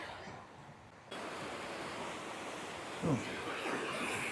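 Sea waves at Rock Beach in Pondicherry wash in as a steady broadband surf roar, rising in level after the first second, with a brief voice-like burst near the three-second mark over the continuous rush.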